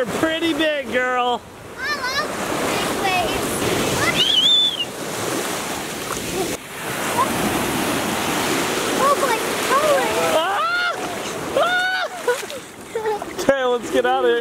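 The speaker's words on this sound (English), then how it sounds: "These waves are humongous." Large ocean waves break and wash on a Hawaii beach, a steady loud roar of surf with wind across the microphone, while children and adults talk and shout excitedly over it throughout.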